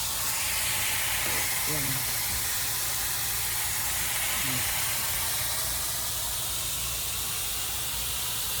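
A garden watering system sprays water over home vegetable and herb plants, a steady, even hiss that runs the whole time, with a person talking briefly over it.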